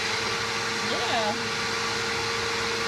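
Hoover Elite Rewind upright vacuum cleaner running steadily as it sucks up twigs, a loud continuous motor whine and airflow rush, with a brief warbling squeal partway through.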